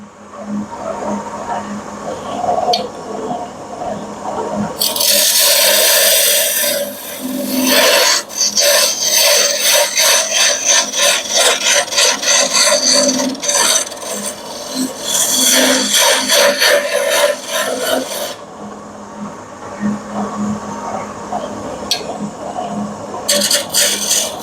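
A skew chisel cuts turning wood on a lathe, giving loud, rasping, scraping passes in several long bursts separated by short quieter gaps.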